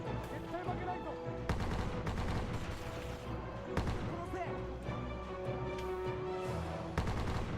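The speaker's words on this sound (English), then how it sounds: "shoot them all through the trees" Gunfire rings out through trees, a series of sharp shots at irregular intervals over a busy, rumbling background, moderately close and fairly quiet overall.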